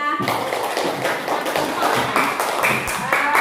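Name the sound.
classroom clapping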